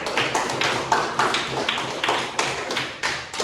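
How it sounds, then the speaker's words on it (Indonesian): A class claps for a group after its presentation: a short run of sharp, irregular claps and taps at moderate loudness, continuing steadily through the whole stretch with no voices on top. "kasih aplaus untuk kelompok 1"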